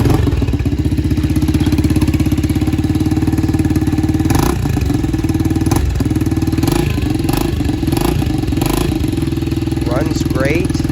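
A Yamaha TTR-90 dirt bike engine idles close and loud with a steady, rapid putter, occasional blips of throttle, while someone talks over it.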